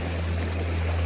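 Outdoor water stream flowing in a continuous, close, fairly loud rush and trickle that holds steady throughout, with a low hum beneath it and no voices.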